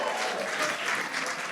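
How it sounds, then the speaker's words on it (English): Audience at an SDR awards evening at the De Vere Grand Connaught applauding themselves, a steady, dense round of clapping from a large crowd filling the room without letup. "Round of applause to yourselves."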